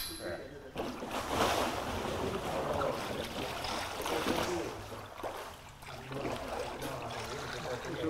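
A person climbs out of a kayak into the water at an outdoor trade fair in Silkeborg, with steady splashing and sloshing under wind noise and nearby talking.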